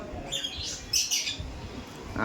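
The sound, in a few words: pigeons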